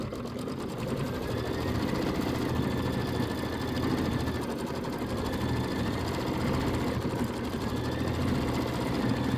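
An embroidery machine stitches quilting on a Kimberbell Hello Sunshine traditional pieced block, giving a steady, rapid mechanical whir and needle chatter that runs close and constant throughout with no talk.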